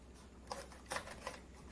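A kitchen knife slices into a bell pepper, giving three soft, brief crisp cuts spaced about a third of a second apart, close and faint with no talking.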